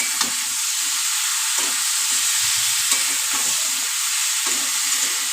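Raw pumpkin with salt frying in a pan, a constant loud sizzle broken by several scraping stirs of a utensil at roughly one-second intervals, with no voices.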